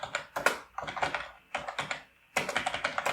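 Close, quick keystrokes on a computer keyboard while entering code, coming in four separate bursts of rapid clicking with short pauses between them.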